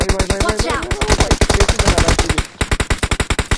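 Rapid automatic gunfire in the video game BGMI (PUBG) rattles in fast, continuous bursts, loud and close, with barely a break between shots.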